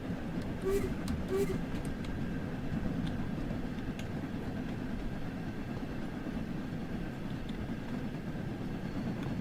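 A steam locomotive in Train Sim World 2 laboring up a grade hauling 15 coaches, a steady dense rumble of exhaust and wheels continuing without a break, with a few faint clanks near the start.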